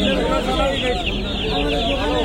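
Chickens at a village poultry market cluck and squawk continuously close by, several birds overlapping in a busy, dense chorus with faint voices in the background.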